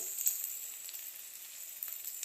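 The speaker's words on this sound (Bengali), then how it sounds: "আদা বাটাটা এইভাবে তেলের মধ্যে দিলে" Ginger paste is added to hot oil with black cumin, and a thin, high, steady sizzle carries on throughout with a few soft crackles. The sound is faint and has no talk over it.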